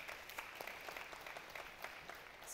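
An audience claps at a conference session, a dense, even patter of many hands that holds steady and sounds somewhat distant and faint throughout.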